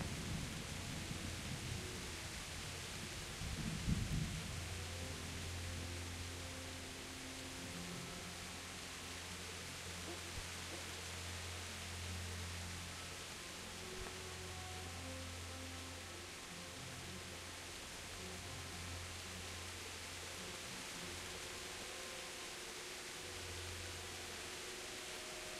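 Heavy rain pours down in the medieval video game Kingdom Come: Deliverance, a steady, dense hiss that runs throughout. A low background hum sits underneath, and there is a brief louder moment early on.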